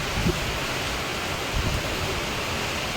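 Heavy monsoon rain pours down outside a new house with water pooling inside, a dense and steady hiss that stays loud and unbroken throughout, with no voices.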